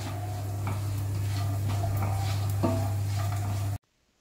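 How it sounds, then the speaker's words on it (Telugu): Raisins and dried figs, along with almonds and cashews, fry in a pan, giving a soft steady sizzle with scattered stirring clicks and taps over a constant low hum, ending abruptly. "ఇక్కడ వచ్చేసి ఇవన్నీ ఫ్రై చేసుకుంటున్నాను"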